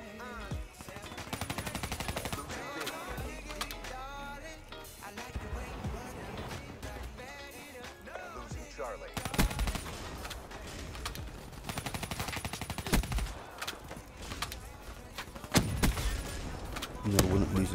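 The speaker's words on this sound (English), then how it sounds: "looks like Fat Boy uses a LMG" Light machine gun fire rattles in sustained bursts in a Call of Duty Black Ops 3 firefight on PC, with overlapping shots, game effects and music throughout.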